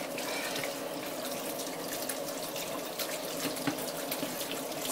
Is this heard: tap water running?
yes